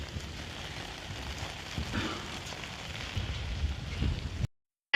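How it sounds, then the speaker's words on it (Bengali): Heavy rain falls steadily outside, a dense, even wash of patter that holds at one level for about four and a half seconds before cutting to silence. No one speaks. "দেখো কত বৃষ্টি হচ্ছে বাইরে।"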